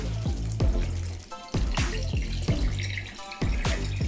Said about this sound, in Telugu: నీళ్ళు వడగట్టే దాంట్లో వేసేసుకొని వెంటనే చల్లటి వాటరు, కూల్ వాటర్ వేసేసుకోవాలి